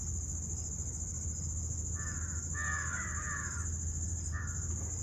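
A crow in a forest gives a short burst of harsh caws, two or three close together followed by one more, standing out over a steady insect hum and faint background hiss.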